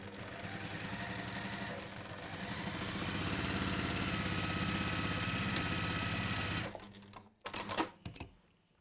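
A sewing machine runs steadily through a straight seam on a textile gusset, a close, continuous motor whir with rapid needle clatter, then stops and gives way to a few short knocks and handling sounds.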